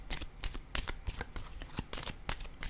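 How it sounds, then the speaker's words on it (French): A tarot card is placed down during a reading, heard as quick, close, papery rustles and slaps of cards being handled in an irregular, busy rhythm, with no voice over it. "je vais déposer une carte"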